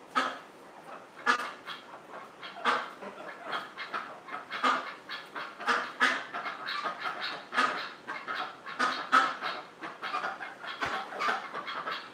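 A duck quacking close by, a string of short, raspy honking calls that come in uneven bursts over about twelve seconds, loud and alone with no talk.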